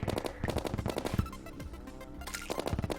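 Rapid bursts of video game gunfire while shooting a boss in Terraria, quick rattling volleys of shots, a pause with a lower rumble in the middle, then another fast burst.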